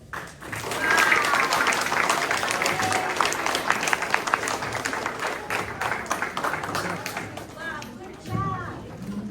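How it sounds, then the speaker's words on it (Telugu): An audience at a Telugu language children's festival applauds after a sung performance, with dense sustained clapping that thins toward the end as voices emerge. "తనకి మరోసారి మన చప్పట్లతో అభినందనలు తెలుపుదాం"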